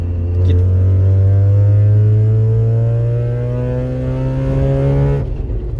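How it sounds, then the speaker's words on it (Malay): A steady Mazda RX-8 rotary engine drone holds a smooth, buzzy tone whose pitch climbs only slightly as it revs, loud and continuous, then cuts off near the end. "Dan ia juga digandingkan dengan bunyi rotary tu pelik sikit"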